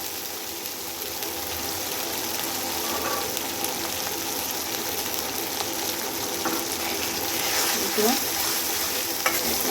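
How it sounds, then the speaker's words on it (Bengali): Masala for a gravy chicken curry fries in oil, a loud, continuous sizzle with steady stirring and scraping in the pan throughout, heard close and without talk. "মশলাটা একটু কষে নিই, ভালো করে কষে।"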